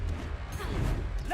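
Confringo fire spell blast in a Hogwarts video game: a single loud, crashing burst with a swishing edge that fills the short moment, set against busy game sound.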